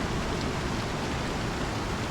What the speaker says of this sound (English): And when it rains here at Zephyr,